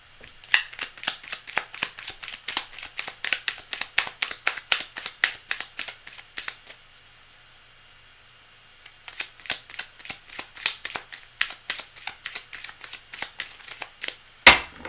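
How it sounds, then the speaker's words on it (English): A deck of playing cards is riffle-shuffled over and over in quick, crisp bursts, close and clear, with a short quiet pause midway before the rapid shuffling resumes; no talking. "cards are well shuffled"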